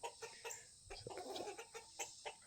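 Chickens cluck softly in a repeated, uneven rhythm, a little distant and faint, with a low background hum.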